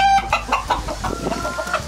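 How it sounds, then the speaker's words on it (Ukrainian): Chinese Silkie chickens on an eco-farm cluck in short, close, irregular bursts, with a few soft higher calls mixed in. "Китайські шовкові."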